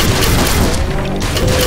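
Enemy gunfire in Watch Dogs, a dense, loud barrage of booming shots and impacts filling the whole moment without pause.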